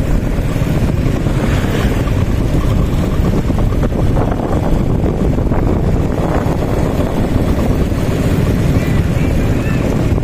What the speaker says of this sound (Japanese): これボートレース用のボートですね。